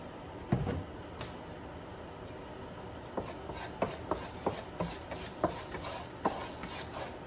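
Burrito ingredients sauté in a little oil in a pan: a soft steady sizzle runs underneath, and a scattered series of sharp scraping stirs and clinks from a utensil lands near and clear, with no talking.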